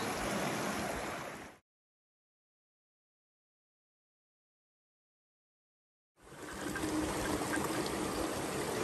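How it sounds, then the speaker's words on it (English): Natural spring water flowing steadily outdoors at a backpacking spot, a continuous close trickling wash that cuts out to silence midway and then resumes at similar loudness. "we're at the natural spring and we're getting some fresh water"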